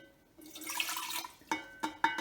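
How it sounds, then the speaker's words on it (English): Liquid poured into a series of containers, a splashing gurgle first, then short bright trickling pours with glassy clinks, close up and with no voices. "you're going to go along and you're going to pour the liquid"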